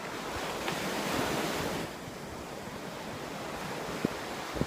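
Sea waves washing onto a beach, a loud continuous rush of surf with steady wind buffeting the microphone and a couple of faint clicks.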